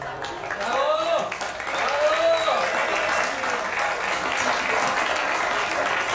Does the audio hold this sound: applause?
yes